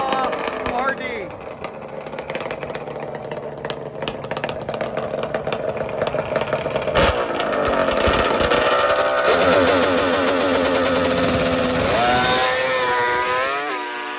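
Two-stroke Kawasaki H2 750 and Yamaha RD motorcycles drag racing, their engines droning loudly and continuously, with pitch sweeping up and down as they rev and then rising sharply near the end.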